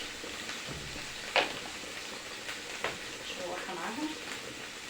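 Tuna stir-fried in a pan with a big spoonful of dried coriander makes a low continuous sizzle, broken by a scrape or two of the spoon, under faint background noise.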